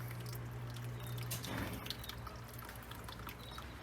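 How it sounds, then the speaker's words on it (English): Water trickling and dripping steadily from the radiator of a 1970 Impala as it drains, a low continuous liquid patter with a brief louder gush midway and a steady hum beneath. "I'll just let that drain for an hour."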